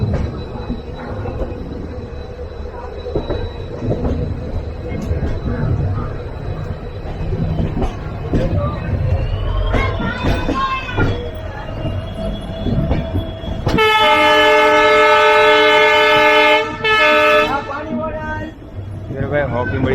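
The Konark Express stands at Mysuru junction with low rumbling and clanking from the train, then a loud sustained horn blast near the end, while people talk throughout.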